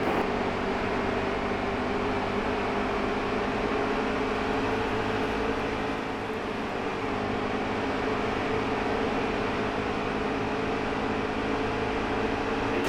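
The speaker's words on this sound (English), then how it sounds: "I'm going to shut up and let you listen to the sounds of racing." Race cars in the NASCAR Heat 3 video game run an Xfinity race at Indianapolis, their engines a continuous, even drone heard from inside the car, steady and unbroken with no voices.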